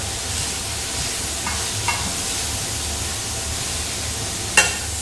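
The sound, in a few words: fall greens being tossed and wilting in a hot pan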